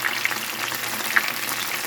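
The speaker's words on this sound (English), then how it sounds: "The sizzling has slowed down, so they're starting to get ready." Okra frying in a pan, a steady soft crackling sizzle with faint bubbling and a few brief pops, close and even throughout with no talk.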